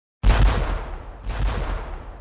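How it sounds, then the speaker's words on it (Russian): Gunfire echoes in a mountain ravine: a loud, booming burst opens after a moment of silence and rolls on, then a second blast follows, both trailing into long reverberating decay. "с обеих сторон ущелья раздались выстрелы, направленные на непрошенных гостей"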